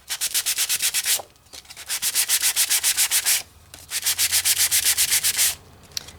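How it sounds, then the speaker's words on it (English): A handheld sanding gadget lightly sands dried Stemple paint on card in quick, rhythmic back-and-forth strokes. Two bursts of close scratchy rubbing are separated by brief pauses. "I bet I could take the sanding gadget just really lightly."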